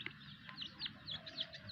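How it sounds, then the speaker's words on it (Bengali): Native chickens cluck and chirp softly in short repeated calls, fairly faint against a low background murmur. "আমার শুধু এই কয়েকটাই মুরগি না, আরও মুরগি, দেশি মুরগি আছে।"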